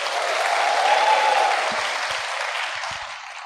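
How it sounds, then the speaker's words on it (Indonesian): A church congregation applauds during a sermon, a smooth, steady roar of many hands clapping at moderate volume that swells briefly and then slowly tapers over a few seconds. "tepuk tangan buat mereka"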